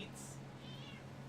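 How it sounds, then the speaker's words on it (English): A house cat gives a faint, brief meow, very quiet and close by, with a soft voice speaking around it. "Oh, Muffin, you want to do the cards so you can get all the treats and be the good kitty that everybody loves?"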